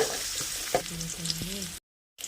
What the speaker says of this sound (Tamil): வெங்காயத்தை நல்லா வதக்கி எடுத்துக்கோங்க.